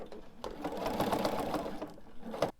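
A sewing machine bastes a bag handle in place, running steadily and close for about two seconds, then stops with a soft final thunk.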